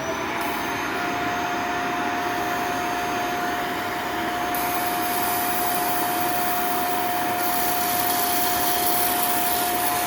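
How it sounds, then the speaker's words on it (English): A portable steam carpet and upholstery spot cleaner runs steadily, a loud continuous motor roar with a constant whine and a hissing wash of steam, no speech. "First of all, let me use the steam."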